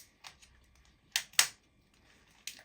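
Scissors snip through a plastic plant pot in a few sharp, crisp clicks at close range, spaced irregularly over a quiet background.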